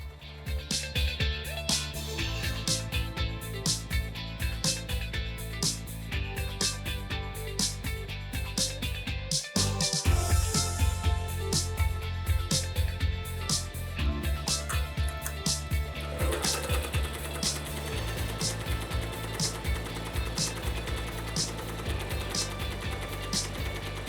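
An embroidery machine stitching a logo onto polo shirts runs with a fast, steady mechanical clatter and repetitive ticking, its rhythm shifting partway through, with a faint low hum beneath.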